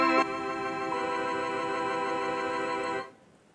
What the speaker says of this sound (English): the first type of chord we're going to talk about is a major 7 chord